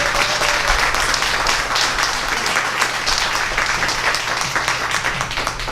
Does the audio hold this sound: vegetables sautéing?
no